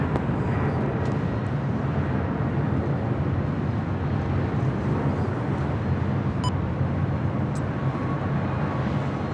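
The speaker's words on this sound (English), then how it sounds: "That was Alaska Airlines Flight 713 heading to Las Vegas. That's 737 at MAX 9." Alaska Airlines Boeing 737 MAX 9 jet at LAX, a loud sustained engine roar with a broad low rumble that stays steady throughout, heard close with no talk over it.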